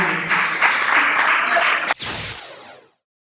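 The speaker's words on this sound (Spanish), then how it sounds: "vamos a recibir por favor un fuerte aplauso a Emanuel Sentíes" An audience gives loud, close applause to welcome motivational content creator Emanuel Sentíes onto the stage. Brisk clapping runs for about three seconds, then cuts off abruptly into silence.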